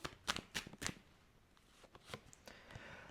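Tarot cards are shuffled in quick riffling bursts, a few sharp flutters early, then softer scattered shuffling sounds close to the microphone, with no talking.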